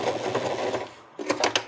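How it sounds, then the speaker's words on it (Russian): A sewing machine stitches a wedding dress skirt onto its corset, running in a steady, loud motor whir with rhythmic needle pulses that pause briefly before several sharper, uneven starts, with no talking over it. "Вначале спокойно опускаю иголку, затем опускаю лапку и начинаю шить"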